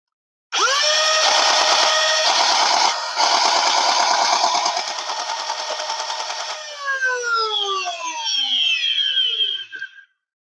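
A full-auto Nerf Stryfe blaster's motor whirs steadily for several seconds with its shell held loosely together and rubbing inside, then spins down with a falling whine, close and loud.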